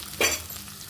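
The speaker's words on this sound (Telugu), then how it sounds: "ఇవన్నీ వేసి బాగా మిక్స్ చేసుకున్నాము" A single short scrape of a spoon stirring salt, chili powder and turmeric into gongura meal maker curry in a hot pan, with a faint sizzle underneath; close and brief.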